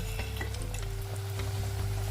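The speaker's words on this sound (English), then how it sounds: "So let's get in all of our pieces of plantains into the oil." Plantain pieces sizzle steadily in hot oil, a constant crackling hiss with a low hum underneath and a few light scrapes, nearby and moderately quiet.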